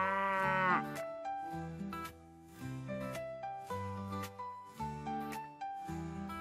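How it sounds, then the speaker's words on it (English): Calves moo several times in a row, loud and close, each call a drawn-out low bellow with short gaps between, and no talking over them. "Calves are baby cows,"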